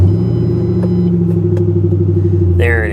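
Roush 427R car engine, salvage-auction car, idling with a steady deep rumble close by after starting, a brief rise at the end.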